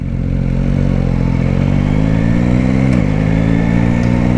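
A 2021 Yamaha Tracer 9 GT motorcycle engine runs loudly and close, a deep steady rumble with a brief dip in pitch partway through.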